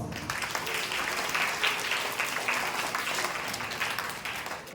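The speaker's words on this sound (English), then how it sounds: "Let us welcome Dr. Larissa Gonsalves with a loud round of applause" Applause in a room welcoming a dentist for a talk on oral health and hygiene, moderately distant and fairly quiet, a steady patter of many hands lasting throughout and tapering slightly at the close.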